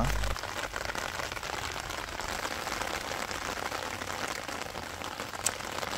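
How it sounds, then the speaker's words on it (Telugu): Heavy rain pouring over a vegetable garden, a dense, even hiss of drops that holds steady from start to finish. "చూడండి వర్షం ఊపందుకుంది, ఇంకా ఆపాల్సి వచ్చింది"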